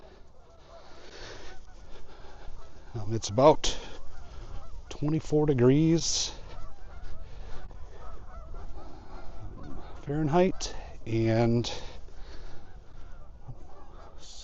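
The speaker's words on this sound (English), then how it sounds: "plenty of Canadian geese out here. There's a lot. Hopefully you can hear them honking." Canada geese honk loudly in several bursts at a reservoir lake, some close and some farther off, while someone talks briefly over light wind.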